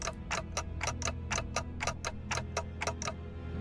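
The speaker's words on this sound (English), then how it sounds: "Yep, ticking is all I can hear." Clock ticking in the video game Limbus Company, a regular, evenly spaced tick-tock of about a dozen crisp clicks, fairly quiet and heard alone.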